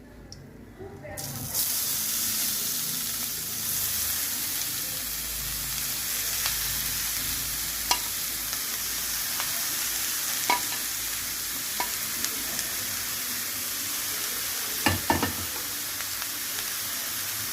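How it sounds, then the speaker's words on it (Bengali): Grated carrots with a bay leaf cooking in a pan for carrot halwa, stirred with a metal spatula: continuous close sizzle with scattered scrapes and clinks against the pan, a brief double knock near the end. "আমি এটাকে খুন্তির সাহায্যে নেড়ে দেব।"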